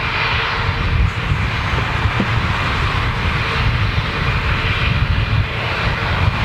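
Boeing 747 engines roar steadily and loudly throughout, a broad continuous jet rumble close by on the aircraft's final flight, with no pauses or talk.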